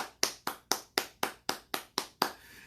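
Single person clapping in a steady, even rhythm, ten sharp close claps spaced about a quarter second apart, fairly quiet, with a faint room hiss after the last one.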